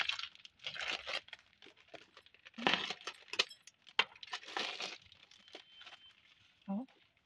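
A plastic bag of salt crinkles and rustles as it is handled and poured over red chili peppers, producing intermittent close crackling bursts, with a voice speaking at times.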